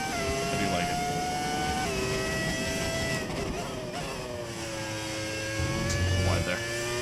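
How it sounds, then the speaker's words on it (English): A 2026-spec Formula 1 car in the F1 25 racing game drones with a steady high engine whine that shifts pitch through gear changes, running continuously beneath a live commentator's speech. "I love the 2026 engine sound"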